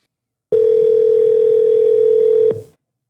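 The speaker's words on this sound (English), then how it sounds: "Let's see if we can get her on the phone." A single steady telephone dial tone sounds for about two seconds while a call is being placed, then cuts off abruptly into silence.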